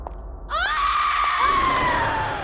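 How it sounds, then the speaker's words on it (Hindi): A woman's high, drawn-out scream of horror in a horror drama, starting abruptly after a short quiet lead-in, loud and close, then sustained and wavering as it slowly fades. "ये किसकी चीख है?"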